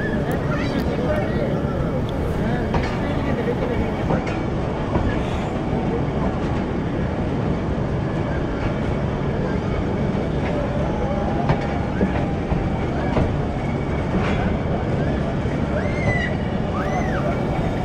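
Thal Express passenger train, 130 Down, travelling from Rawalpindi to Multan in Pakistan, with a steady, loud rumble of wheels on rails throughout and faint clatter on top. Voices are heard now and then over the noise.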